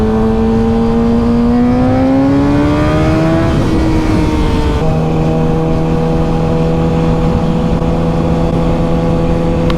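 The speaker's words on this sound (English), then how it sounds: "I didn't even see that motorcycle would go by." A motorcycle passes close by on a rural road, its engine note rising and sliding in pitch as it approaches and then holding a steady drone as it moves past, loud and dominant with no talking.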